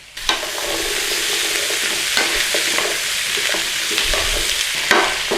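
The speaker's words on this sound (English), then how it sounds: "I'm going to add my carrots and potatoes now. And they can have a little bit of a stir around in there" Carrots and potatoes, destined for corned beef hash soup, sizzle loudly and close in a hot pan while a utensil stirs them around with constant scraping and a few sharper knocks.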